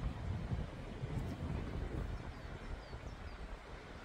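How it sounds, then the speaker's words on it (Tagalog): Steady gusting wind buffets the microphone outdoors in a park on a hill, a continuous low rumbling roar with no voices heard. "Mahangin nga lang."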